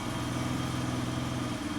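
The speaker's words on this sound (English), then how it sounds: "I still have my lumpy idle" A BMW E32 735iL idles with a lumpy, steady low engine rumble that holds evenly throughout, heard close with no talking.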